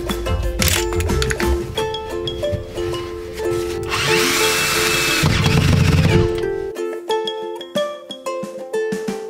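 A power drill with a long bit whirs in repeated bursts while driving screws, with a longer sustained run in the middle, close by amid workshop clatter.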